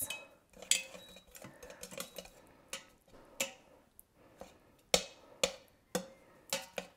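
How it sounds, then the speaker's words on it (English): Potatoes being smashed in a pot set to sauté, a series of sharp clanks and scrapes of a masher against the pot's metal sides and bottom, irregular and close, with no talking. "Smash up these"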